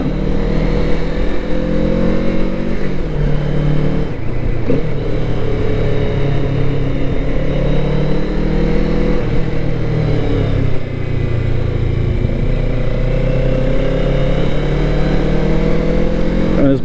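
A Kawasaki Z650RS retro motorcycle being ridden drones loudly and steadily close to the microphone, its engine note shifting slightly in pitch as it holds speed through corners, with wind rush underneath.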